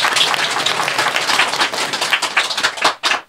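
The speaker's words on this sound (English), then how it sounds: "You can clap again if you like," An audience claps steadily and densely throughout, a full crowd applauding close by with the sound thinning briefly toward the end before picking up again.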